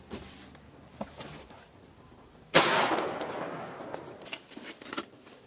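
A single loud, sharp gunshot rings out at an iPhone 6 target, a sudden blast with a ringing decay after a few faint earlier knocks, with no talk.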